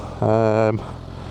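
A short, loud 2025 Honda Hornet CB1000 motorcycle engine rev rising sharply then cutting off after about half a second, with a rich harmonic exhaust note over quiet background.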